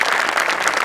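A brief, dense patter of audience clapping at a Marathi comedy stage show, a steady wash of many hands lasting under a second.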